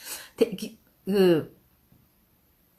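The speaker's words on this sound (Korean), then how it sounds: "저같이 비염이 없는 사람은 이렇게 하면 기침이 나오는데" A few short, rough coughs from inhaling an aromatherapy oil through one nostril, one after another, close by and fairly quiet, with a brief pause before the last one.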